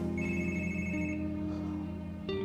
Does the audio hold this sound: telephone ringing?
yes